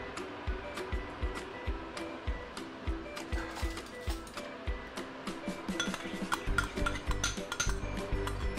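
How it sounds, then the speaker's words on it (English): Kangkung (morning glory) is stir-fried in garlic oil, Thai style, in a pan, with a utensil clinking and scraping metal in a regular rhythm, close up, and the sizzle swelling louder toward the end. "now let's start stir frying our kangkung."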